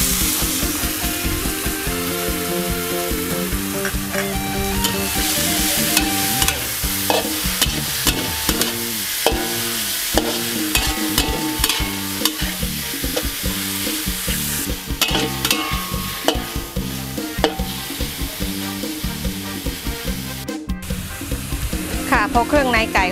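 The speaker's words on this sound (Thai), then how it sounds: "พริกกระเทียมหอมแล้วนะคะเราก็ใส่เครื่องในไก่ลงไปผัดได้เลยค่ะ" Chicken giblets stir-fried with chili and garlic in a pan crackle with a dense, steady sizzle, punctuated by frequent close scrapes and knocks of the utensil.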